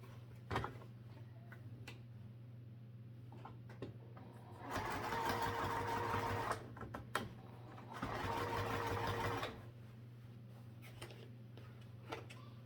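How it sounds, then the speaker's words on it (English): Two bursts of a domestic sewing machine stitching a fabric seam at half-inch allowance, each a steady rapid whirring run of a few seconds separated by a pause, close and clear over a low background hum. "we're going to sew down this seam with 1/2 inch seam allowance"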